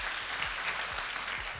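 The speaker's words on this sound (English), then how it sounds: "Round of applause for our lovely speaker." A conference audience at the GovTech Leaders 2023 event applauds its speaker. Many hands clap in an even, moderately quiet patter that holds steady throughout, with faint low thumps underneath and no talking.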